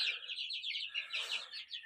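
Chicks peep in rapid, high chirping bursts with occasional hen clucks among Brahma poultry, close by and continuous with no talking.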